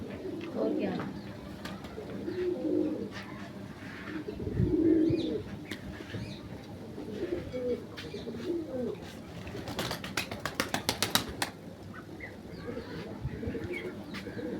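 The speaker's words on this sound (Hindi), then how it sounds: "ये परिंदे हैं" Pet pigeons coo in low, repeated murmurs close by, with chirps and a burst of rapid wing flapping partway through, all under people talking.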